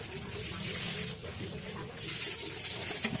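Water from a leaking, rust-prone kitchen faucet, a soft continuous trickle and splash running quietly throughout with a faint background murmur.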